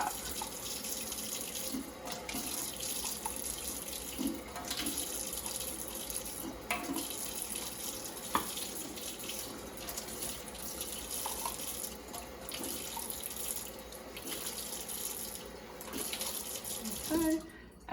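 A tap runs water into a container for measuring while sidewalk chalk paint is mixed from water and cornstarch, a steady close hiss and splash lasting the whole span that cuts off abruptly at the end.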